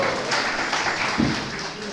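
An audience claps steadily through a Brahma Samhita lecture session in Surat, a dense, even patter of hands that holds for about two seconds with a slightly stronger burst near the end.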